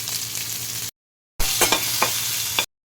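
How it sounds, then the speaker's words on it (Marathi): Onion frying in a little oil in a kadhai wok gives a loud, broadband sizzle in two bursts separated by a short silence, with a few sharp crackles and spatters in the second burst. "कढई एक ठेवलेली आहे त्याच्यामध्ये तेल घेतलं आहे थोडं तर हा कांदा भाजायला घालते आहे"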